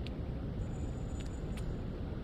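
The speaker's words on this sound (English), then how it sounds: "I hear cars." Cars pass in the video game Opus Castle, a faint steady road rumble from unseen traffic with a couple of brief high hissing accents, no voices over it.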